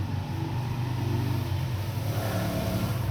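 A second-hand Toyota Hilux with a timing belt warning light runs at a steady, low idle. The close, even engine rumble holds throughout with no pauses.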